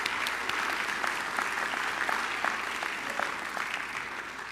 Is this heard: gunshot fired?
no